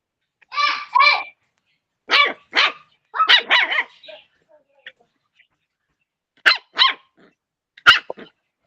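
A dog barking near the microphone in bursts of two or three sharp barks, with quiet gaps between the groups.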